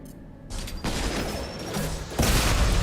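Grenade launcher fire in Mass Effect 2, with sudden heavy bursts stacking into a dense, loud rumble that jumps in intensity at several points, including a big final blast.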